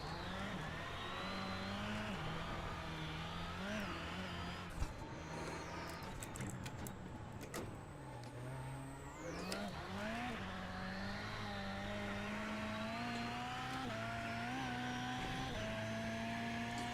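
A rallycross car in iRacing laps Daytona, its engine droning and shifting pitch continuously as it revs up and down, with brief tire scrabbling in the middle.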